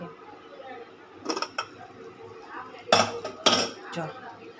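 A pressure cooker of stuffed kantola (spiny gourd) curry being opened in a home kitchen, with a few sharp metallic clinks of the lid, pot and utensils against a quiet background.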